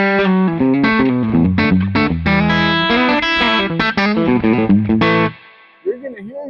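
Electric guitar played through an LPD Pedals Head-On Boost into a Victory MK amp, loud and driven with distorted chords and quick picked notes, cutting off abruptly before a brief voice.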